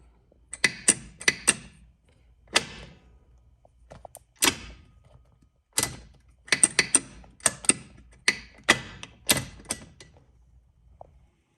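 A ratchet with a 1/2 inch socket loosens bolts on a T56 Magnum transmission shifter. Sharp, close clicking bursts come in short groups separated by quiet pauses.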